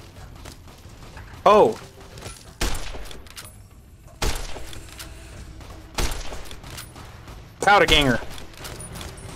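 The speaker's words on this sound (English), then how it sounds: "I'm being shot at by something." Gunshots fire at the player in Fallout New Vegas, a handful of loud cracks and thuds spaced across the stretch with quieter ambience between them, under occasional talk from a nearby voice.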